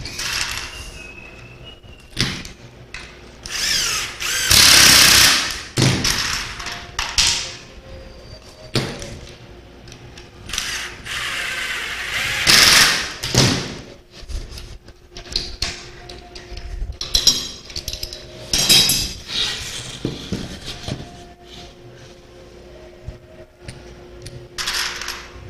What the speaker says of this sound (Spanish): Otra vez vamos a usar nuestra prensa.